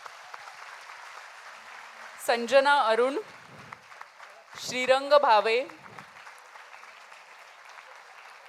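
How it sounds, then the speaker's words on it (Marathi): Steady audience applause for the singers at a Women's Day stage programme in Maharashtra, a continuous wash of clapping running under a presenter's voice announcing names. "तर आपल्या कलाकारांसाठी, गायक कलाकारांसाठी आपण छान टाळ्या वाजवूया."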